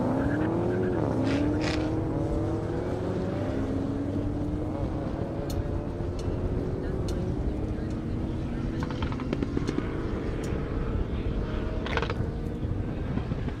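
A Cork Sport Mazda race car runs on a half-mile airstrip at a 200+ mph racing event. Its engine drones loud and continuous, and its pitch climbs steadily as it accelerates. A commentator talks over it.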